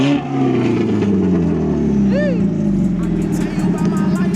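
A car engine at a car meet holds a loud, close, throaty rev that swells and sustains throughout, with a brief rising whine in the middle, while people talk over it.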